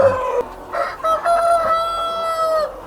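A rooster crows close by in a long, drawn-out call at a chicken breeding farm, with hens clucking around it.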